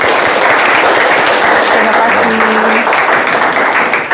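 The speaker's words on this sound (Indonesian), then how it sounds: "Ya, dan kita berikan aplaus untuk Ibu Juraidah." A classroom audience applauds a teacher being observed, a loud, dense, continuous clapping that carries all the way through.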